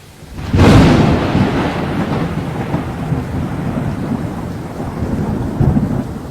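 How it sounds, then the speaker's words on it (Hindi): A sharp thunderclap cracks early, then rumbles away under steady, heavy rain that pours continuously and loudly to the end. "तुमने देखा कितनी तेज बारिश हो रही है।"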